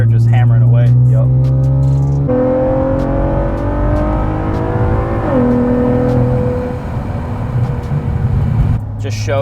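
An Infiniti Q60 with upgraded Z1 turbos on pump gas accelerates hard, its engine note climbing through rising revs with gear shifts that drop the pitch before it pulls again, loud and close with people talking over it.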